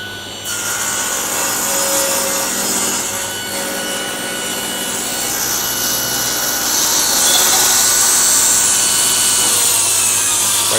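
A saw makes a rip cut along a wooden slat of a garden bench under repair, producing a loud, continuous rasping grind that runs steadily for about ten seconds, close to the listener and without talk.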